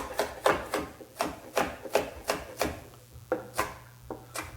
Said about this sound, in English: You just give it a little chop.